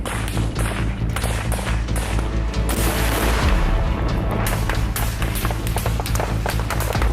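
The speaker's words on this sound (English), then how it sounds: "gunfire continues from both sides" Rapid bursts of gunfire crack and thud at close to middle distance in a forest during combat in Ukraine, irregular and overlapping shots with booming echoes, with no speech.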